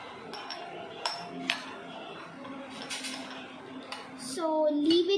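A spoon clinks and scrapes against a bowl or glass while yeast is stirred into milk for pizza dough, a series of light ringing taps and swirls, with a voice speaking briefly near the end.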